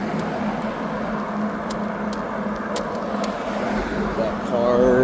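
A car passes on the road outside a moving vehicle, a steady close hum of engine and road noise that swells toward the end, with a person talking over it.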